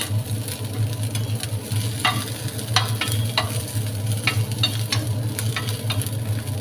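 Chili peppers sizzling and frying in hot oil in a home kitchen, with a constant bubbling hiss and scattered sharp crackles and pops, close and loud, with no one talking.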